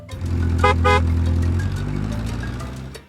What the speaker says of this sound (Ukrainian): Це під'їхав автомобіль з новими іграшками.